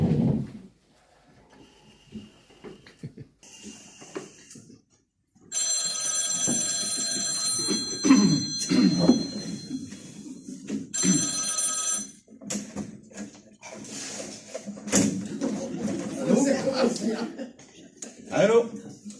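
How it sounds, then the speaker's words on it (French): A telephone bell rings in repeated bursts, sounding clear and fairly loud, with short pauses between rings and some handling noises around it. "Alors, téléphone."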